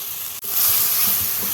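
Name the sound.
chopped onions sautéing in a kadai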